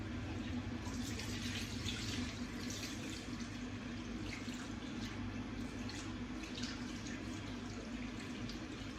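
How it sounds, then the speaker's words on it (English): Water runs steadily from a bathroom tap onto a flannel, a constant close hiss and splash with light dripping texture, continuing unbroken throughout. "I'm just gonna wet my flannel"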